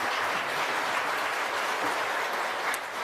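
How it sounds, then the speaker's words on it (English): At a national architecture awards ceremony, an audience gives a round of applause, a continuous, moderately loud patter of many hands clapping that stays level for about three seconds. "Please give them all a round of applause."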